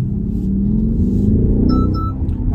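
A 2020 BMW X6 M50i SUV coupé with a 530 PS engine pulls hard under full throttle, a loud continuous low engine roar rising steadily in pitch over a couple of seconds, with faint electronic chimes near the end.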